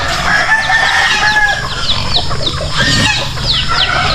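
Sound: flock of chickens clucking and rooster crowing

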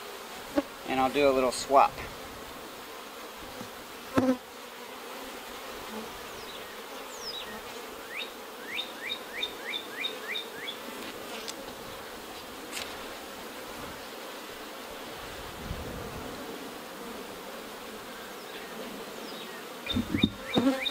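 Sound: honey bees buzzing around an opened hive

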